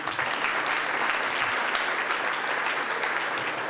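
Steady audience applause fills a church service, dense and continuous at moderate volume throughout.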